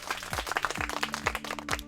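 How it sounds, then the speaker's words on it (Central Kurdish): Schoolchildren in a village classroom give a burst of applause. The clapping is soft and scattered, continuous for a couple of seconds, with faint thumps beneath it. "یەک چەپڵەی بەهێز بۆ خۆتان"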